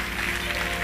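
Congregation at an evangelical church service clapping, a dense continuous wash of applause filling the space with a faint tonal hum beneath, steady and fairly loud throughout.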